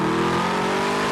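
A 2013 Mercedes-Benz SLS AMG GT coupe's naturally aspirated engine revs with a loud, sustained, close mid-pitched roar, alone with no voices.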